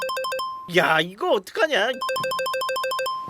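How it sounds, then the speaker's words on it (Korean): A mobile phone ringtone repeats in a steady electronic pattern, loud and close, cutting off while someone speaks with alarm, then resuming and ringing on alone. "눈치 없는 벨소리가 울려 퍼지는데"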